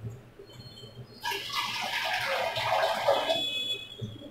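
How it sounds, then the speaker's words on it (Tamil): Water poured into a pot of vegetable sambar with dal, a broadband splashing rush that starts abruptly, holds steady for about two seconds, then tapers off; close and moderately loud, with no voices. "இன்னும் கொஞ்சம் தண்ணி சேர்த்துக்கிறேன்,"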